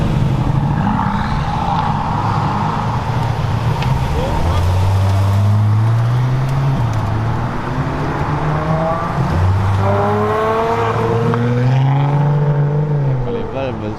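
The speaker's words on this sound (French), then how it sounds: "La 812 TDF qui arrive." A Ferrari 812 TDF rolls in at a charity car rally in Lyon, its engine rising and falling through several revving sweeps at close range amid street traffic noise, with people talking nearby.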